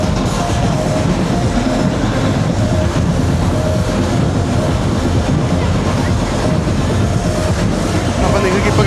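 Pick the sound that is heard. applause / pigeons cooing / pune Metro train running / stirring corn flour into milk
pune Metro train running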